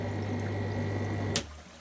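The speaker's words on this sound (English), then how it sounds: "the water does drop when you switch the pump on." A water pump runs with a steady low hum while water drains beneath it, then a short sharp splash or clunk cuts in near the end.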